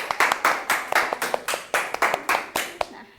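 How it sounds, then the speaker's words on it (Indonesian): A small group in a classroom session claps in a rhythmic pattern, about a dozen crisp, evenly spaced claps close by, fading at the end. "tepuk tangan buat kelompok kalian"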